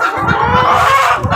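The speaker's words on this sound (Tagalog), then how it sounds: "Ito manukan o." Chickens cluck in a backyard coop on a rainy morning, a loud, close, continuous murmur of low clucks and chatter with no one speaking.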